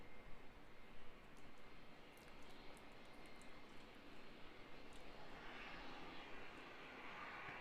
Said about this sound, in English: Here we go, Airbus A330 coming in.